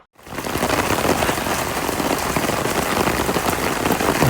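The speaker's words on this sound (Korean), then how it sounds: "비가 엄청나게 오고 있습니다." Heavy rain pours down steadily, a dense, loud, continuous wash of drops hitting surfaces close by, with no voices.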